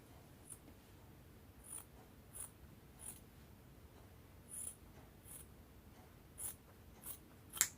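Scissors trim excess fabric from a freshly stitched welt pocket on a kaftan dress, giving faint, crisp snips about every half second over a quiet room.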